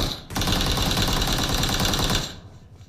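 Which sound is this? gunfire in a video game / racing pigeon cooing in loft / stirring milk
gunfire in a video game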